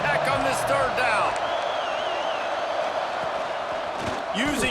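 A stadium crowd roars steadily in EA Sports College Football 26 during a Texas Tech third down, a continuous dense wash of noise with a commentator talking over it.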